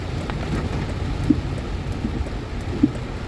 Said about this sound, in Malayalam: ഇതിപ്പോൾ എന്ന് പറഞ്ഞാൽ വിസിബിലിറ്റി കുറവുള്ള മഴയാണ്